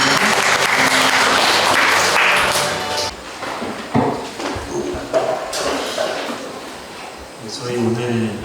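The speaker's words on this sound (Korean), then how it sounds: "우리 하나님께 박수를 보내드립니다" A congregation applauds during a worship service, loud dense clapping for about three seconds that fades into scattered claps, thumps and a voice talking.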